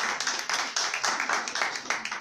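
Hands clap in quick, irregular bursts from an audience at an oath-taking ceremony, a short, fairly close round of applause with no voices over it.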